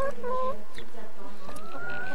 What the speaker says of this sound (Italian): La gallina grande ce n'è.